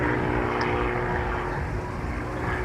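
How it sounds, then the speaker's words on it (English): German purpose-built aerobatic monoplane stressed to plus or minus 20G, flying a display at the Halton air show; a steady, sustained propeller drone holds at constant loudness throughout with no voices. "This is a purpose-built aerobatic machine from Germany."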